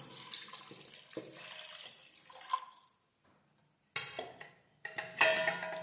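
Water is poured into a pot of soaked rice in several splashing bursts with short pauses between them, close and fairly quiet.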